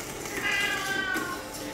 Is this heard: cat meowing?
yes